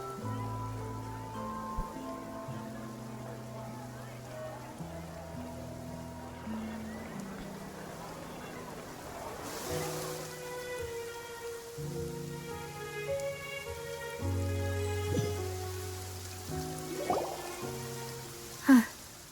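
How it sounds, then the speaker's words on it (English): Steady rain in the video game Genshin Impact, a continuous patter running under layered game music and effects, with a louder sharp hit near the end. "It's been raining non-stop for a few days now."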